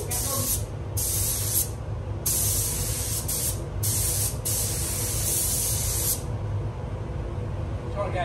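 A spray gun paints a Colt CZT car, giving a loud, continuous close hiss broken by several brief pauses between passes, with voices talking underneath.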